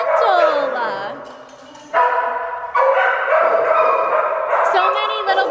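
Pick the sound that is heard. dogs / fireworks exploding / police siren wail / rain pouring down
dogs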